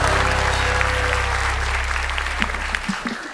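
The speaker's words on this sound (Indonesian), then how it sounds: "tepuk tangan dulu dong sekali lagi" A TV studio audience applauds, a dense, even round of clapping over a low sustained musical hum that drops away near the end.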